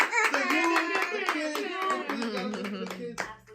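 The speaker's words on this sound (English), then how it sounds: "So we gotta clap it up for that" An audience at an interview event claps in a scattered, uneven patter, close and under ongoing talk and some laughter, tapering off near the end.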